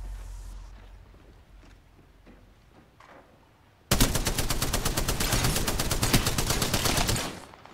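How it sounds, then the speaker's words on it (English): Sustained automatic gunfire in Apex Legends, a loud rapid burst of shots that erupts suddenly after a quieter stretch of faint in-game sounds and runs for several seconds before cutting off. "Listen up, I'm getting shot at! Under fire! Opening fire!"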